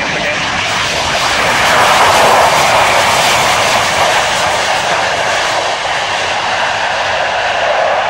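A jet aircraft engine roars loud and steady at an RAF Fairford air show, holding a dense, continuous rush that swells slightly without any break.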